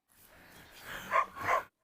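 Dogs, a Belgian Malinois and a Karabash, give a couple of short, fairly faint barks or yips at a farmhouse, two brief bursts near the end over a quiet background.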